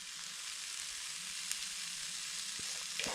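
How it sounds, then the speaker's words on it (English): Steak sizzling on a small wee grill outdoors in the Scottish wilderness, a steady close hiss of frying fat with faint pops and crackles throughout, no voices. "Steak's on the wee grill."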